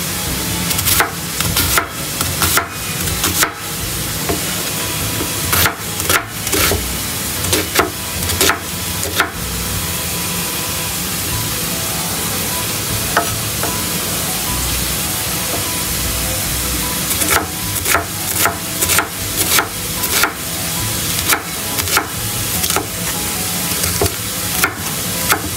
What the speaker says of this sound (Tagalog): habang lulutuin or niluluto natin ang ating minced pork